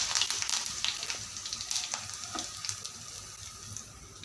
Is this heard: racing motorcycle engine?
no